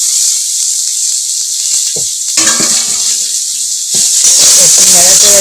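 Chopped onion and green chillies hit hot oil in a pan, giving a loud, steady sizzling hiss that flares brighter near the end, with a voice faintly in the background.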